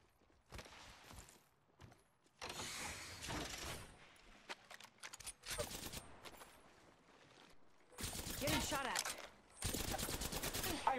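Bursts of automatic gunfire in an Apex Legends Arenas match start and stop, some distant and some close and loud, with quiet gaps, movement sounds and a brief voice.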